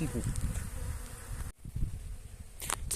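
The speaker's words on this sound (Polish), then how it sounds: "Poplon pięknie pachnie, pszczółki ekstra pracują na nim. Słychać brzęk jak na rzepaku prawie." Honeybees buzz in a busy swarm close by while foraging on flowering plants, with a brief drop partway through and sharper high chirps near the end.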